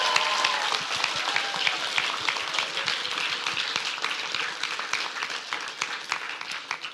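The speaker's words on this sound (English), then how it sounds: "So let's give them a big round of applause." Audience at a youth swim team season awards event applauding steadily, a dense wash of clapping that holds at an even loudness from start to finish, with no voices standing out.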